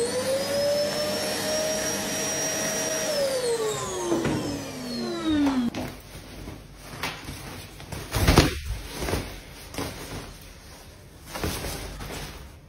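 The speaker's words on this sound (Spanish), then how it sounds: "Aspiradora" A vacuum cleaner's high motor whine holds steady, then drops in pitch as it winds down, followed by scattered bumps and clatter at moderate loudness.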